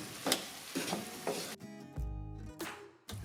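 Spices including ground black pepper, salt and cumin powder are stirred in a sizzling pan, producing close scraping strokes over a continuous frying hiss that fades into a quieter bubbling stretch.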